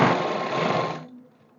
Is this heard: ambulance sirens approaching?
no